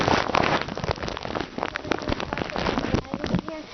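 Steady rain patters outdoors in a snowy setting, a dense close spatter that fills the whole stretch with little pause.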